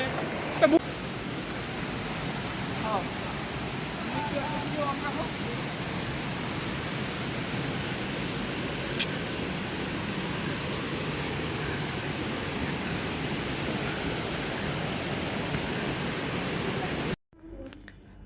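Khaiyachhara waterfall in Sitakunda, visited in rainy weather, gives a continuous broadband roar of rushing water, steady and loud for the whole stretch before cutting off abruptly at the end.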